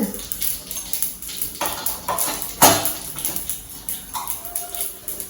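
Mustard seeds crackle and splutter in hot oil, with irregular sharp pops and sizzles at close range. Faint utensil clinks can be heard while cooking pirandai kulambu.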